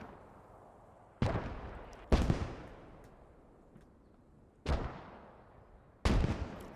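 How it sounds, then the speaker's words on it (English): German mortar rounds land in Post Scriptum, a World War II game, in four heavy booms spaced a second or two apart. Each blast rings out and fades into a quiet background. "German mortars still raining down"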